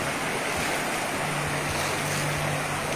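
Steady broadband rush of flowing water, like a river running close by, with low rumbling and some wind buffeting; no voices.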